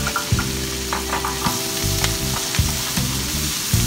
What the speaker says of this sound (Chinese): 爆香之后，迅速放入黄瓜